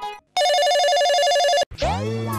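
An electronic phone ringtone plays loudly as someone places a call, a steady warbling tone lasting over a second before cutting off, followed by a different tonal sound.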